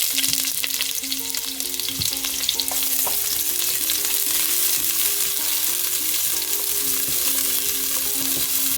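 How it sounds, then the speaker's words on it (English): Onions hit a pan of hot oil where garlic was just fried for pancit lomi, giving a continuous close sizzle with light crackling and occasional stirring taps. "Next, we can add our onions."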